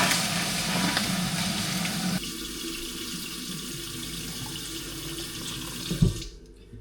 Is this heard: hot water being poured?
yes